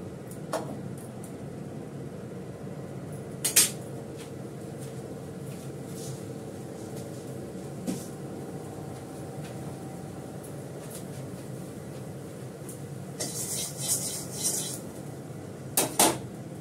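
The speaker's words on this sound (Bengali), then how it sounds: "রান্না করতে করতে কড়া ভালো করে ধুয়ে নিই" A kadai (wok) being washed in a home kitchen, with a few scattered metallic clanks and clatters of dishes over a steady low background hum, with no talk.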